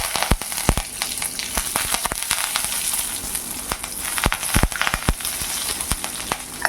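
Curry leaves sizzle and crackle sharply in hot oil for a tempering, in a dense, steady fry with scattered pops and bursts throughout, close and fairly loud, no voices.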